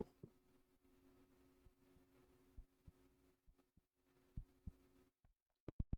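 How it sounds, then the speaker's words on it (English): Close, muffled heartbeat thumps caught by a sensitive ASMR microphone, soft low pulses over a steady hum, irregular and faint, ending in a few sharper thuds after near silence. "you get to hear my heartbeat as I sign off"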